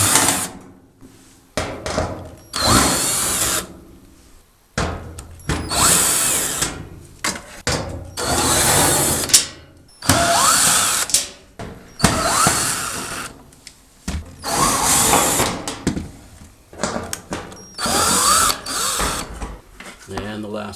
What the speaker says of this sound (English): I'm just going to use a 1/4 inch nut driver for that